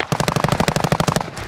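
Rapid automatic gunfire in Call of Duty Warzone, a steady loud burst of evenly spaced shots running for over a second before tapering off, with no talk over it.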